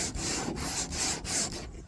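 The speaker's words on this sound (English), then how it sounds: "I'll sand the edges here and make them nice and straight with this" Sandpaper rubs back and forth along the edges of a wooden butcher block in quick repeated strokes, close and crisp, with brief pauses between passes.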